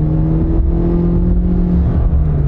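A car with a CVT transmission accelerates under throttle, its engine drone rising in a smooth, steady, continuous note without gear-shift breaks, close and fairly loud throughout.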